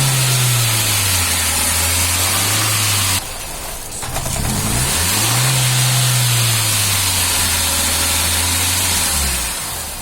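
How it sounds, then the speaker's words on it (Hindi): Hyundai Xcent engine with a misfire, revved repeatedly in rising and falling surges, loud and close, cutting out briefly partway through before picking up again with uneven, stumbling running. "रेस दे और जैसी रेस दोगे वैसे फड़फड़ाएगी और बंद हो जाएगी गाड़ी"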